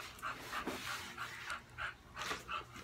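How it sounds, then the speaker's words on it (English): A dog panting close by in quick, rhythmic breaths, soft and steady with no talking. "please excuse my dog's panting"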